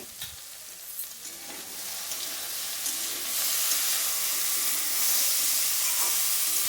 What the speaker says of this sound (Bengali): এবারে সবজিগুলো খুব ভালো করে ভেজে নিতে হবে।